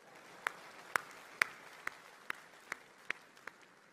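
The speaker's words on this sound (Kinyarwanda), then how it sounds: "mwiha amashyi muri beza we." Audience clapping at an event, heard as about eight sharp, evenly spaced claps that sound thin and sparse rather than a full crowd roar, with no talking.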